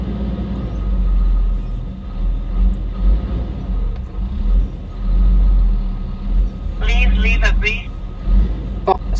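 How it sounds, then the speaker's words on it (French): A heavy engine rumbles low and steady nearby, with a brief higher hiss or squeal of brakes near the end; a voice speaks intermittently over it. "Fait bien de bruit avec son camion,"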